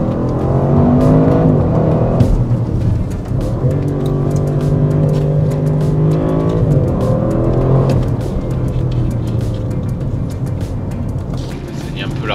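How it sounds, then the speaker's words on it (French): An Audi RS6 Performance engine accelerates hard, its note climbing through two or three strong surges of rising revs over about twelve seconds, loud and close, with a voice talking over it. "Quand vous avez une RS6, vous êtes toujours tenté d'accélérer et d'écouter cette mélodie."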